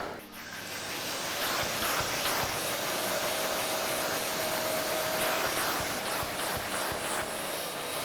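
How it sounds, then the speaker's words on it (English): A household hoover vacuums loose dirt and debris from car carpet mats, giving a steady, loud broadband motor whoosh that holds at an even level for the full stretch with no speech. "you simply grab your hoover, suck away any loose dirt and debris"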